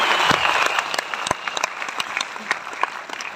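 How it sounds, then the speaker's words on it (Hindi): An audience clapping loudly at a corporate family event, dense applause that gradually thins into scattered claps. "ये जोरदार तालियां इस कंपनी की हो जाए।"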